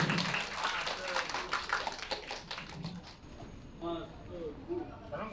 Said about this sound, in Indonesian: Tepuk tangan dulu dong buat Mas Teguh